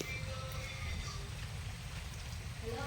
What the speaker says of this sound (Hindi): गाइस देखो वर्षा हो जेंती